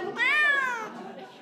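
A rescue cat at a shelter adoption event gives one clear, drawn-out meow, close and fairly quiet, tailing off into soft background murmur.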